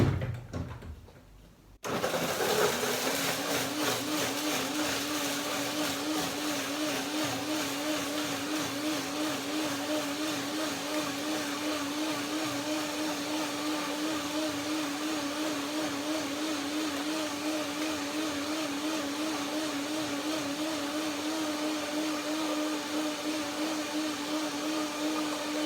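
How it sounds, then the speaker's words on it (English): A kitchen blender purees an apple, pear and oatmeal mixture, starting after a short quiet moment and then running as a loud, steady whirring drone with a slightly wavering pitch that continues unbroken, with no talking. "Blender dance."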